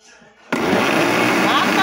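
A kitchen blender mixes cake batter with milk, kicking on abruptly after a brief quiet moment and whirring as a loud, steady, dense motor roar.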